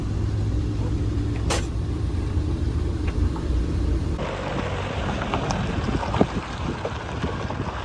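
Steady low engine rumble and road noise from inside a moving Nissan Atlas Loco truck with automatic transmission, with a faint voice briefly audible over the drone.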